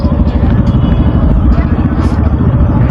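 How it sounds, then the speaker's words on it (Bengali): Several motorcycles starting and revving together at close range, a loud continuous engine clatter, with people talking over it. "জাস্ট একা একা সবাই বাইক স্টার্ট করছে"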